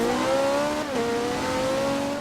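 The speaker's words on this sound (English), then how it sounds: "Well, I didn't intend for it to be a burnout." A car doing a burnout in the Forza Horizon 2 racing game, a loud sustained engine drone with a rising then dipping pitch and tire squeal, steady and close.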